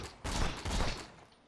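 Sniper rifle fire in the video game Borderlands 2, a burst of sharp gunshots packed closely together, fairly faint and trailing off quickly.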